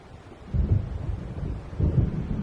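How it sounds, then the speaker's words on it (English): Low rolling thunder from an approaching storm in the game Alan Wake Remastered, two soft deep rumbles swelling and fading, distant and muffled. "It seems there's a storm coming."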